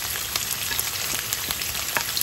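Garlic, onion and wood ear mushroom stir-fry in a hot pan for grouper with black pepper, giving a steady bright sizzle with soft scraping stirs at intervals, close and continuous with no talk.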